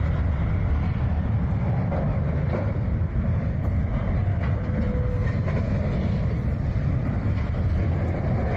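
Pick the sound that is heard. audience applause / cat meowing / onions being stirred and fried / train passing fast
train passing fast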